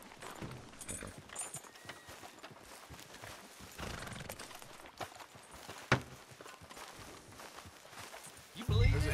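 Horse hooves clip-clopping at a walk in the Red Dead Redemption 2 video game, steady and fairly quiet beneath game dialogue, with a brief neigh and some street ambience.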